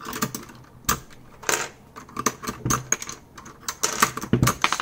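Keycaps being pried off a Keychron K4 keyboard with optical red switches during a teardown: irregular close plastic clicks, snaps and light rattles, a few sharper pops, no speech.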